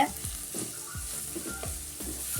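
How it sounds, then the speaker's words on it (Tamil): Onions sizzle as they sauté in a pan for a paneer gravy, with a steady frying hiss and periodic stirring scrapes, close and fairly quiet, no voices. "இந்த வெங்காயம் எல்லாமே நல்லா செவந்து வரணும். நல்லா வதக்கிக்கோங்க."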